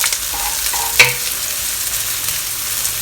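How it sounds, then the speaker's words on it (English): Thinly sliced shallots stir-fry in oil over low heat, giving a soft, steady sizzle with a single sharp clink of a utensil against the pan near the one-second mark. "Stir fry them over low heat because we don't want to burn it."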